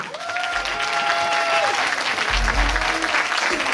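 Steady applause from a large standing audience at a show finale, dense and continuous, with faint music tones and a voice in the background.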